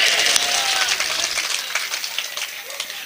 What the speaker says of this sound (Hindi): बबलू भाई की मोहब्बत में उठा दीजिए, और एक बार जोरदार ताली इस मुशायरे के लिए